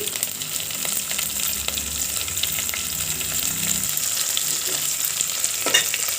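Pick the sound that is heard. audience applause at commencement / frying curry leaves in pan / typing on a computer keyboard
frying curry leaves in pan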